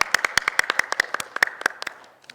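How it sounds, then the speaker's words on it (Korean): A small church congregation gives a short, sparse round of applause during a Sunday service, with distinct individual hand claps ringing out close and clear before thinning out and stopping. "성경 통독자분들을 위해서도 박수합니다"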